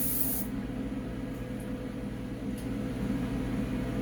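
Norrell's Moly Resin coating sprays onto a part in a light dusting pass, a steady loud hiss that runs continuously without breaks, with a short brighter burst at the start.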